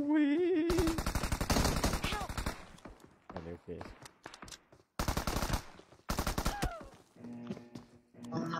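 Rapid bursts of gunfire, loud and close, with dense automatic volleys early on and further short barrages later, separated by gaps where voices and a vocal sound are heard.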